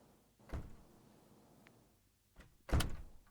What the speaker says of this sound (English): I've locked the door.